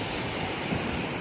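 Sea waves wash onto the beach at Varkala in a brief, continuous hiss of surf, with no voices.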